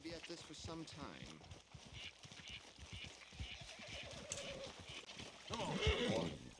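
In the Red Dead Redemption 2 game world, a horse whinnies and its hooves clop in uneven steps, fairly faint, mixed with someone talking throughout and a louder burst of sound near the end.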